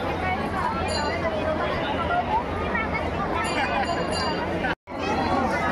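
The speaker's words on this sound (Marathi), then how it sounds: "दत्त जयंती असल्यामुळे गर्दी आहे." Crowds of devotees talk continuously at the Shegaon temple on Datta Jayanti, a constant murmuring hubbub that drops out for a brief instant near the end.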